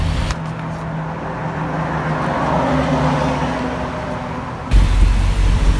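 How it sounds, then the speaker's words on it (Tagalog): Road traffic passing a roadside motorcycle repair shop, a steady broadband rumble of cars and vehicles going by, with a louder, closer vehicle surge near the end. "So napakaingay yung mga sasakyan na dumadaan."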